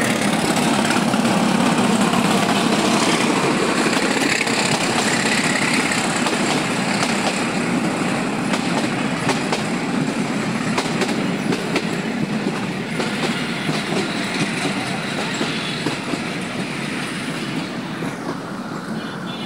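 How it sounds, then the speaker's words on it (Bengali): A train rolls into a station with a loud, continuous rumble and rhythmic clickety-clack of wheels on rails, easing slightly toward the end, with no talking. "এই যে ট্রেন ঢুকে পড়ছে"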